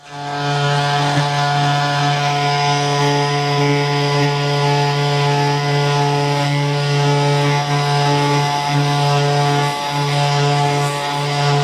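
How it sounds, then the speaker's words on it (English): A power sander grinds back thick gel coat on a boat deck, a loud continuous high-pitched whine held steady with brief dips in pitch as pressure changes, close to the listener and with no talking. "So I need to sand back this ridge here"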